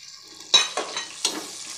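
Whole garam masala spices dropped into hot oil with golden fried onions in a pot for matar pulao, giving a sudden close sizzle that flares again in a few bursts of stirring and frying, with no talk.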